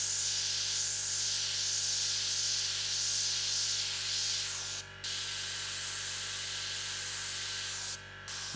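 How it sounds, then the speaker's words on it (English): Airbrush spraying paint for soft shapes in monotone portraiture, a steady close hiss running nearly unbroken, with two brief pauses where the spray cuts off. "You just see how easy it is to create these softer shapes with the airbrush."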